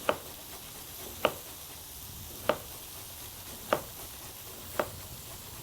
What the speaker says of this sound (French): On hache finement.